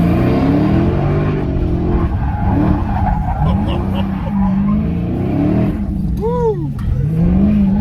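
A drift car at a race track revs hard with a steady, loud engine roar, wavering pitch as it swings through the course, and a brief rising tire squeal near the end, with people talking over it.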